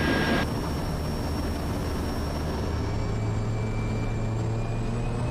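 Steady, loud aircraft engine drone from a Zodiak bush plane back-taxiing on the runway at Gasmata, a continuous close hum with a low tone rising partway through and no talking.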